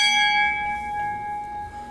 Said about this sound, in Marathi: अजून एकदा घंटी वाजवत आपण.